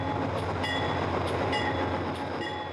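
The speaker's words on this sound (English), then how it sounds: "a specially outfitted Amtrak train pulled out of the old Santa Fe station in downtown Oklahoma City" An Amtrak test train running on a rail line near Oklahoma City, a steady loud rumble of rolling wheels and cars with faint rhythmic clicks, continuous and close.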